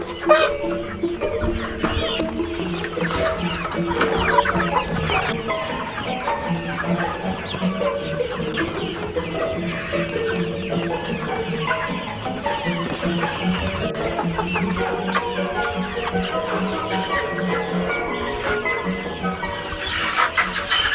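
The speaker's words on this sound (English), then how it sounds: "you can hear some irritating noises. That means that some of the chickens are actually trying to peck their friends" Inside a chicken house, a flock clucks continuously and agitatedly, with overlapping squawks and occasional sharper cries as birds peck at one another; the noise stays dense and close throughout.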